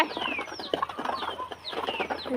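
Backyard chickens and ducks being fed paddy in a yard: soft clucking and bird calls with repeated short descending chirps, moderately close and fairly quiet, continuous over a couple of seconds without speech.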